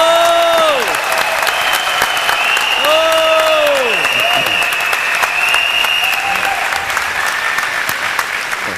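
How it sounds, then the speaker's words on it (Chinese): An audience at a talk breaks into loud, sustained applause, steady clapping for the full stretch, with sweeping musical tones rising and falling behind it. "所以 掌声。"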